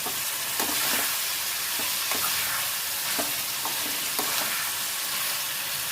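Tomatoes and curry leaves sautéing for a chutney, a dense steady sizzle with soft rhythmic scrapes and taps of a spoon stirring in the pan roughly every second; no talking.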